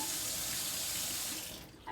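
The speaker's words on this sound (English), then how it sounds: "You're going to turn on the water." Water runs from a tap into a basin at a bedside, a steady close hiss that is fairly quiet and then cuts off near the end.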